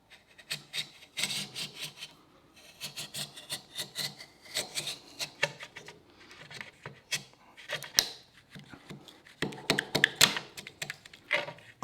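A sharp chisel pares across a wood surface in short, uneven scraping strokes, close but fairly quiet, with brief pauses and small taps between passes.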